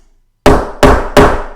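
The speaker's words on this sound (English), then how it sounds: "we want to give it a good whack 3 or 4 times" A hammer strikes an eyelet setter three times in quick succession, each blow a sharp, close, loud thwack with a short ringing decay, after a brief silence.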